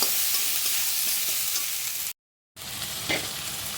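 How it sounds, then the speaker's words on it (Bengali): Ginger and garlic sizzle hard in a hot pan with a constant crackling hiss. It cuts out briefly for a moment of silence, then resumes just as loudly. "আদা রসুনটাকেও দিয়ে ভালো করে ভেজে নেবো"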